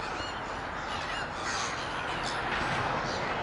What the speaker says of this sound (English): Let's have a look at that jackdaw, look.